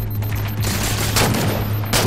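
Rapid gunfire in Halo 4 Spartan Ops, a loud dense fusillade of overlapping shots with bursts rising and falling throughout, over a low steady hum.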